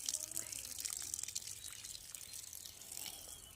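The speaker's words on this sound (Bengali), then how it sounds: "আজকে গাছে জল দিচ্ছে।" Water runs and patters as plants are watered in the morning, a soft, steady trickle with scattered drips, faint and fairly distant.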